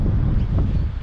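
Strong wind roars steadily across the microphone during an outdoor flathead fishing session, a continuous low buffeting rumble with no pauses for the full second.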